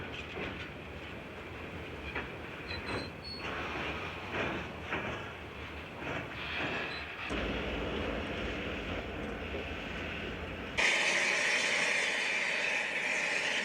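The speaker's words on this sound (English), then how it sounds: "The train passes and the men are soon back at work on their never-ending job." A long freight train rumbles steadily past at close range in the Australian outback, with a broad roar and rhythmic wheel clatter that swells and then shifts into a brighter hiss as the wagons go by.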